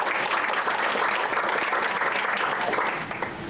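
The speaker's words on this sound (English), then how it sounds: "Give him a round of applause." Sustained applause from an audience greeting a machine shop owner at an event, a dense, steady clatter of clapping that fills the space and tapers slightly at the end.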